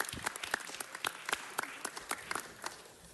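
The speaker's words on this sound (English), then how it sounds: "Let's give them all another round of applause." Applause from a community gathering audience, fairly light and distant, with distinct individual claps standing out in an irregular patter that tapers off toward the end.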